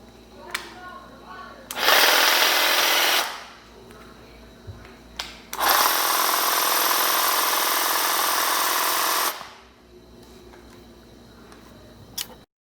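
A Parkside 20-volt cordless hedge trimmer runs in two bursts, a short one then a longer steady whine of several seconds, with quiet pauses and small clicks between.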